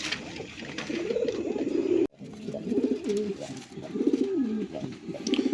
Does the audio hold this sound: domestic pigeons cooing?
yes